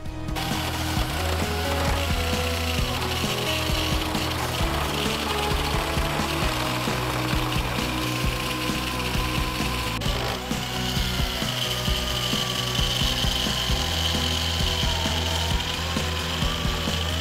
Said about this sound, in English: It's like a mini circular saw, air saw.